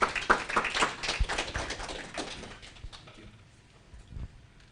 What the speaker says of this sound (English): Can we give him a round of applause?